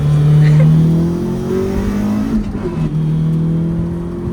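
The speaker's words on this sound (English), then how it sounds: "That VTEC roars." A Honda CRX's VTEC engine revs hard and climbs in pitch, roaring loudly up close from inside the car, then settles and builds again after a brief shift.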